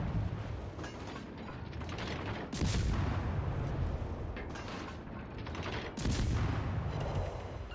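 Warship guns booming in World of Warships Legends, heavy salvos striking in loud bursts about every few seconds over a constant rumble of mechanical noise, with no talk.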